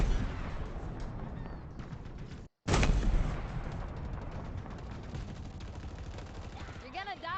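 Sustained gunfire in the shooter game Halo Infinite, a dense stream of shots and impacts with one brief cutout, while a voice talks over the battle noise.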